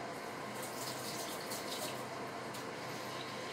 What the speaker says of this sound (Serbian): I sad idemo vrelu vodu.